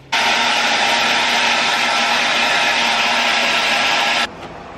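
A hair dryer blows loudly and steadily for about four seconds, then switches off, leaving a quiet hum.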